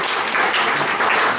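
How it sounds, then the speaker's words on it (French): Brief burst of dense audience applause at a spiritual gathering, loud and steady clapping from many hands throughout. "On peut encore l'applaudir."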